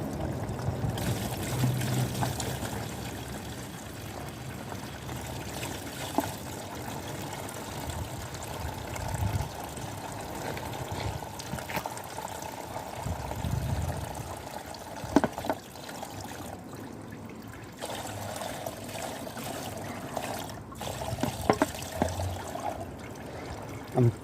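Oil and water drain from the engine casing of a Suzuki GS 850 motorcycle into a basin, a continuous trickling pour lasting over twenty seconds, broken by a few faint knocks and clinks.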